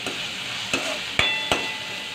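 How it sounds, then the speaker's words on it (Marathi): Garlic fries in a pan with a steady sizzle, broken by three sharp clinks of a spoon against the pan, close by, with no one talking. "थोडं आपण हे करायचं, त्याला फ्राय करून घ्यायचं।"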